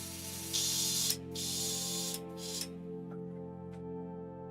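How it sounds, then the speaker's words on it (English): Two bursts of matte varnish from an aerosol spray can, each a loud steady hiss lasting about half a second, with a short pause between them and a quiet hum underneath. "right now we're gonna spray some matte varnish on that boy and call it a day"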